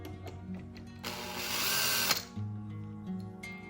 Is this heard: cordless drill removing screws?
yes